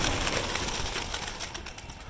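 Pigeons kept on a rooftop make a short burst of close, fluttering and cooing bird sound that fades slightly toward the end.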